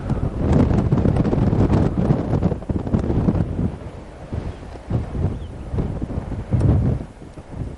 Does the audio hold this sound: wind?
yes